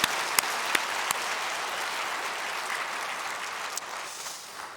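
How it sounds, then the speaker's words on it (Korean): Applause from a congregation at a women's mission devotion service in a church, a soft, even spread of clapping with a few sharp near claps at the start, fading toward the end. "다시 한번 박수로 격려합니다."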